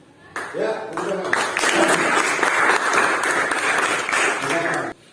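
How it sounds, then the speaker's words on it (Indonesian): Students in a class clapping together after a group presentation, a sustained round of loud applause lasting several seconds, with voices heard underneath and at its start. "Ya, tepuk tangan."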